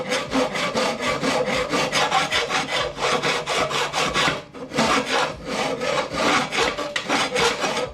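A hand file works along metal edges to bevel them for welding, giving rapid, rhythmic rasping strokes that are close and loud, with a brief pause midway before the strokes resume, no talking.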